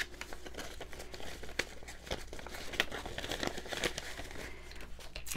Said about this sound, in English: I'm going to put this in my envelope for take home pay.